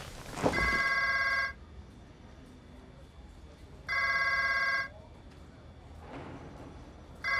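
A telephone rings in a newsroom, sounding in two long trilling bursts with a quiet gap between them, its electronic bell clear over faint room noise and a brief thump at the start.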